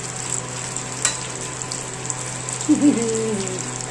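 Chicken 65 frying in hot oil, a steady continuous sizzle with a few soft clatters and stirring scrapes close by, no talking.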